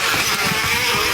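A motorcycle engine drones loudly and steadily, its exhaust roaring close by with slight surges in pitch.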